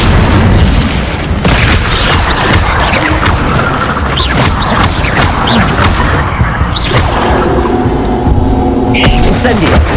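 The Incendio fire spell in Hogwarts Legacy goes off in a dense run of loud booming blasts and crackling bursts, a constant roar of fiery explosions close up that leaves almost no gaps.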